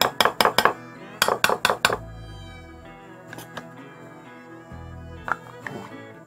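Mayonnaise being spooned into a spicy tuna mix in a bowl, heard as a quick burst of metal spoon clinks against the dish in two rapid clusters, then quiet scraping and a few faint taps.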